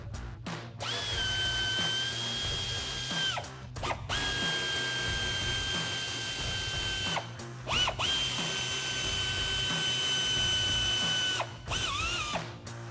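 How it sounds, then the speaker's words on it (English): A ratchet with an 8mm socket backs out bolts in the wheel well of a 2019-2024 RAM 1500 pickup, making a steady mechanical whirring that runs in long stretches broken by short pauses. "we're gonna grab the ratchet 8mm socket. There's 5 bolts we're going to remove in the wheel well right here"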